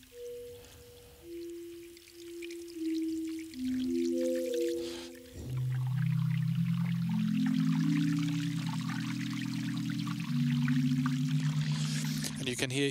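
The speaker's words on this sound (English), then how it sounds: "It's pitching it up and down, so the quality of the water sound, the water component of the note changes as well." A water field recording is played back as pitched synthesizer notes in Ableton, forming a sustained melodic line of gliding tones that drop lower midway, with a bubbling, trickling water texture running through each note.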